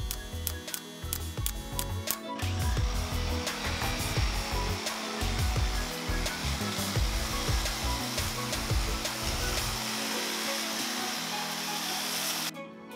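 A jigsaw cuts waste from around letters in pallet wood for a rustic sign, giving a steady, loud buzzing whine that runs almost unbroken for several seconds, with rattling chatter underneath, then stops abruptly.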